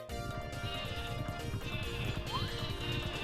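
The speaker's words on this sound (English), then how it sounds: "Sheep!" A sheep bleats in the Paper Mario video game, a wavering nasal cry set over a busy, steady background of tonal game music, fairly loud and continuous.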